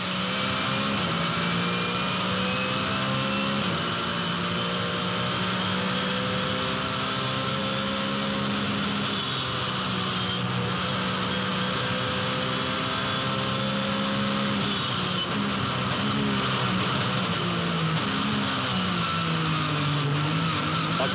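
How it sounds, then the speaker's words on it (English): A race car with a 400-horsepower Porsche engine roars continuously from onboard at the 2008 Adelaide 500 circuit, its loud, steady engine note rising and falling through gear changes with no pauses. "Fantastic sounding, 400 horsepower Porsche engine."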